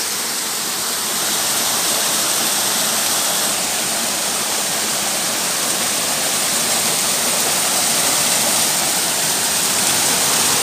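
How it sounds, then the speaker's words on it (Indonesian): Spring water pours out at the foot of a steep cliff about 100 metres high, a loud, steady, continuous rushing that never pauses, with no voices over it. "Di sana terdapat mata air."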